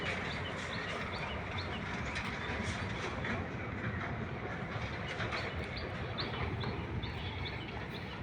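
Train passing through Laxi railway station in Pakshi, Bangladesh, a steady loud rumble of railcars with faint clickety-clack and occasional bird calls above it throughout.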